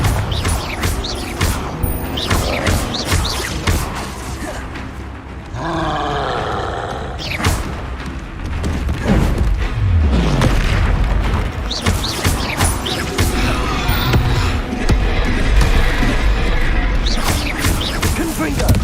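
Confringo fire spell explosions in the Hogwarts Legacy video game, played on hard mode: loud, repeated booming blasts with roaring, crashing bursts that overlap densely over a rumbling game soundscape.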